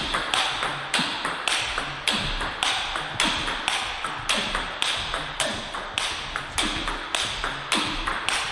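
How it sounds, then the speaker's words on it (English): Table tennis ball striking Butterfly Rozena rubber in a steady rally, a sharp clicky tap roughly every half second, close and fairly loud with room echo and no talk. "You can really feel the ball dig into the sponge with a loud clicky sound."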